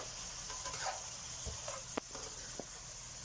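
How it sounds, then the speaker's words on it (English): Leeks and tofu stir-frying in a pan, a soft steady sizzle and hiss with a few light clinks and stirring scrapes, close and fairly quiet. "Just continue frying it for a little bit"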